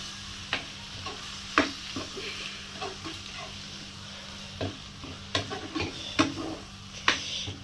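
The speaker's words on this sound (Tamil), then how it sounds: "இப்போ இதெல்லாம் நல்லா கலக்கணும்." Egg chicken gravy, Chettinad style, is stirred in a sizzling pan, with a soft continuous frying hiss under periodic clinks and scrapes of a spoon against the pan, with no talking.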